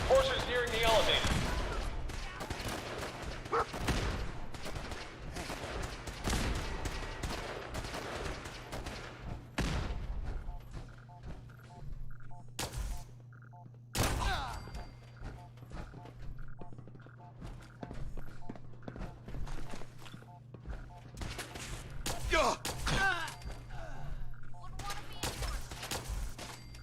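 A plasma gun firing in the video game Fallout 4: repeated sharp, loud energy-weapon blasts at irregular intervals, some in quick clusters, over a low steady background hum of game ambience.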